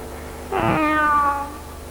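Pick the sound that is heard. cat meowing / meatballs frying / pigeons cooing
cat meowing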